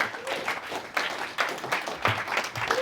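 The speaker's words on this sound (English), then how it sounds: "give him a round of applause all the way from New York" An audience applauds a guest being welcomed on stage from New York at a live talk event, a steady wash of clapping across the whole clip with a few louder swells and no speech.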